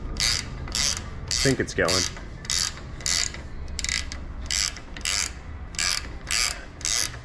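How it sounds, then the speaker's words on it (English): Large ratcheting wrench turning a bolt on a collision-damaged 2018 Jeep Wrangler, a steady run of about ten loud, evenly spaced clicking bursts up close, with a brief spoken remark partway through. "I'll just use the big ratcheting wrench. That should walk it in, no problem."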